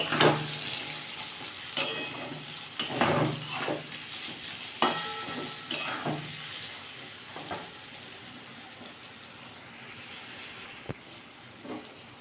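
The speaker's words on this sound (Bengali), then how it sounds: "আমি এগুলো সব দিয়ে এবার এটাকে ভালো করে বন্ধুরা কষে নেবো" Cabbage stir-fried with turmeric, chilli powder and cumin powder sizzles steadily in a pan, broken by repeated scraping stir strokes that fade toward the end, with no talk.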